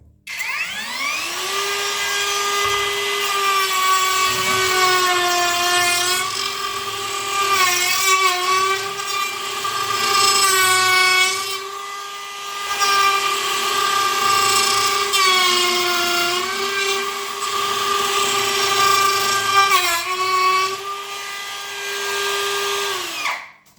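A cordless router running on DeWalt batteries at sixth speed trims a wooden edge, giving a loud, sustained high whine that dips briefly several times as the bit bites into the wood.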